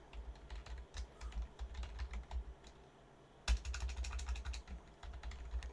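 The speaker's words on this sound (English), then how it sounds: "It's pretty hard to type with a microphone in the way of the keyboard." Fast typing on a computer keyboard, close and crisp, with bursts of rapid key clicks, a short pause near the middle, then a louder keystroke and more rapid typing.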